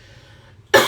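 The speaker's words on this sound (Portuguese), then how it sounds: "Desculpa, gente, que eu tô com uma tosse alérgica" A single sharp allergic cough bursts out close to the microphone near the end, following a short quiet stretch with faint background hum.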